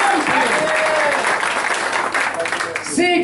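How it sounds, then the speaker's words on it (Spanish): Church congregation applauding the pastor, a loud dense burst of clapping that continues throughout with voices shouting over it near the end. "¡Dale un aplauso al pastor!"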